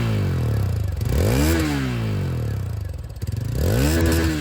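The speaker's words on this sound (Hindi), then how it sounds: "अब यहाँ पर एक्सपल्स की जो आवाज़ है वो भी सुन लीजिए" A Hero Xpulse 200T 4V motorcycle, E20 model, revs through its stock exhaust. The engine climbs and falls in two or three sweeping throttle blips over an idle rumble, recorded up close with nobody speaking.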